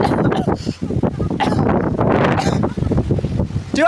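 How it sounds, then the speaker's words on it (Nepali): Strong wind at Kakani in Nuwakot roars in loud, uneven gusts, buffeting the microphone close up, with voices partly audible beneath it. "बतास चलेर यस्तो भइरहेको छ"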